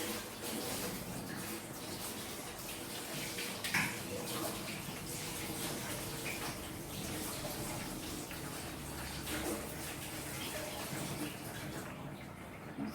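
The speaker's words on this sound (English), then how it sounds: "Then I just rinse this out really quick." Hot tap water runs steadily into a kitchen sink while food processor blades are rinsed beneath it, a continuous close splashing gush with brief clatter, no talk.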